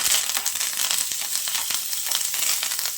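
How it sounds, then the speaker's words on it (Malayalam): Mustard seeds, fenugreek, curry leaves and dried red chillies crackle and sizzle steadily in hot oil, a dense, close frying hiss with small pops running throughout and no talking. "എണ്ണ ചൂടായി വന്നിട്ടുണ്ട് ഇതിലേക്ക് കടുക് ഇട്ട് കൊടുക്കാം ഉലുവ കറിവേപ്പില വറ്റൽമുളക്"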